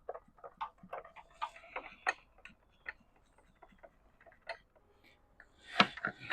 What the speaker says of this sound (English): the smaller ratchet seems to be working a lot better